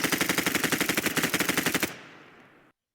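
A rifle in the Roblox game Anomic firing a rapid automatic burst of about twenty evenly spaced shots, loud and close, then cutting off into a short fading echo.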